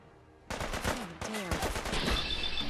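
Gunfire in Fallout 4: loud, bursting volleys of shots starting abruptly after a quiet moment and continuing in quick clusters, with a voice speaking briefly over part of the shooting.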